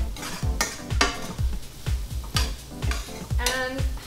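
Spoon stirring apple crepe filling with cinnamon in a pan, with repeated scraping strokes in a steady rhythm, close and fairly loud, alongside light clinks and a soft sizzle, no talking.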